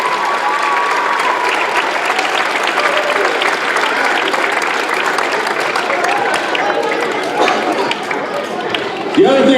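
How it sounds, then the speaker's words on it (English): Awards banquet audience applauding a football league team for a great season, loud sustained clapping with crowd chatter and cheering mixed in, dipping briefly near the end. "Let's give them another round of applause for a great season."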